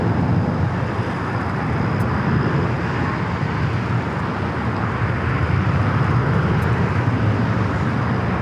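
A Delta Airlines Boeing 767-300ER taking off at LAX: a loud, broad, continuous jet engine roar that holds steady throughout, heard from a distance, with no talk over it.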